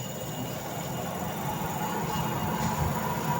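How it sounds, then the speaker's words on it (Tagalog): A Eureka spin dryer fitted with a replacement motor spins with its brake rubbing, giving a steady, constant whirring hum with no talk over it. "Humuhuni pa rin, bagasgas pa rin yung preno."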